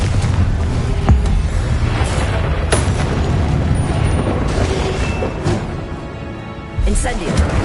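The Confringo blasting spell erupts in the PS5 game Hogwarts Legacy, deep rumbling booms and bursts layered over dense, loud combat sound, with voices calling out spells.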